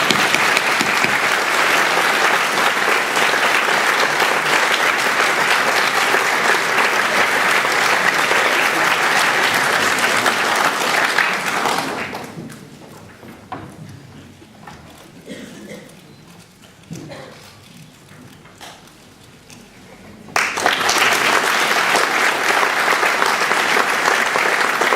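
Audience applause at a school prizegiving ceremony, loud and sustained from a large crowd, fading to a quiet lull midway and then bursting back to full strength for a second round.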